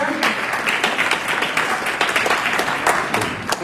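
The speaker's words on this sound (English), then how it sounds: "Let's give him an applause when he comes up here" An audience at a lecture claps for the next presenter, a brisk burst of many hands close by, steady through the moment with a few louder individual claps.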